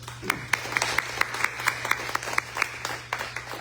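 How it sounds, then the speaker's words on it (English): Audience applause at a city council candidates forum, a round of clapping with distinct individual claps standing out over a steady electrical hum. "Can we get a round of applause?"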